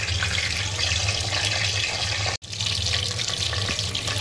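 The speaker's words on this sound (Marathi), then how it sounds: "आता त्याच्यामध्ये आपण ही अंडी फ्राय करणार आहोत।" Eggs fry in a pan with onion, giving a steady, close sizzle and crackle with a brief sharp break partway through.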